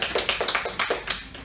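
A few people clap for a quiz contestant named Daniel, a sparse, uneven run of close handclaps that fades out within a second and a half.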